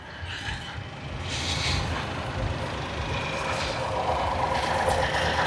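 A Honda Acty HA7 mini truck engine idles quietly outdoors, a low steady rumble with a soft rising whoosh of air, no talking.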